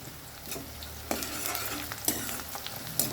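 Ground cumin and fenugreek powder fry in hot oil with a steady close sizzle, broken by several sharper scrapes and clinks of a spoon stirring the pan, with no talking.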